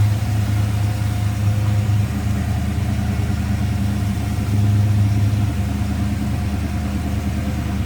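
A 1978 Chrysler Cordoba engine idles smoothly and steadily nearby, a low continuous rumble with a slight swell in the middle, no voices.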